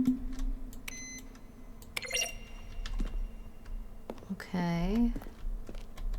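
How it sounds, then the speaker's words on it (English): Button presses from The Stanley Parable, each one a keyboard stroke mixed with a synthesized tone. A few short, quiet clicks and tonal bleeps are spaced apart, with a brief sweeping synthetic chime, over low background hum, and a voice speaks briefly. "A selection of the sounds used throughout the game when buttons are pressed. Each sound is a mix of a keyboard stroke and a synthesized tone."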